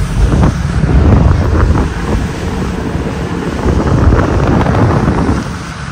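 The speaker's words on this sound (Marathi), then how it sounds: "मस्त वारा आहे." Strong wind roars and buffets the microphone steadily, mixed with the rushing wash of water around a boat moving at speed near Ratnagiri.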